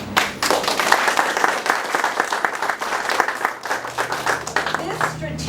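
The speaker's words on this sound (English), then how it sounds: "I also really want to clap it up for Governor Gavin Newsom." A crowd at an outdoor press event for a state grant program claps steadily and loudly for several seconds, a thick rapid patter of hands with some voices underneath.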